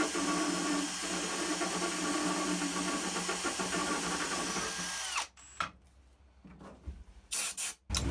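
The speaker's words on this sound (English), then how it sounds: "I just have a little grinder wheel right here, a little tiny one, to grind the top of this thing flat." A small, tiny grinder wheel grinds the top of a metal part flat with a continuous close, loud, high whine for about five seconds, then stops, leaving scattered shorter bursts and clatter.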